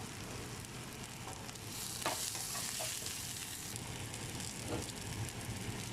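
Mustard seeds pop and sizzle in hot oil for a spicy tomato curry, a continuous crackling fry with brief sharper spatters and bursts.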